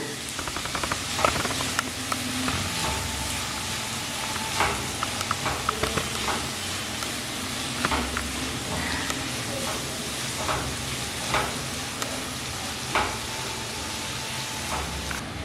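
Onions sizzling steadily in oil in a pan over low to medium flame, a continuous hiss with occasional soft clicks and taps, moderately close, with faint background noise throughout.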